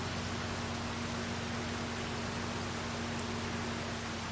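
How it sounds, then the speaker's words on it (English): Steady rain in the Farming Simulator 25 video game, a continuous even hiss of rainfall with a low constant hum beneath it, unbroken and unchanging throughout. "Let's take a look because it's raining"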